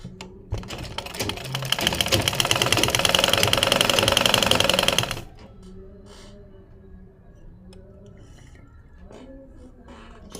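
A sewing machine stitches a kameez neckline, giving a loud rapid mechanical whir for about five seconds that then cuts off, leaving quiet rustling and faint tones.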